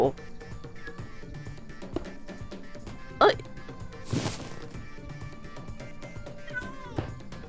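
A cat meows in the block-building game Minecraft, with a few short, bright cries scattered across the stretch amid game clicks and thumps, while someone talks over it.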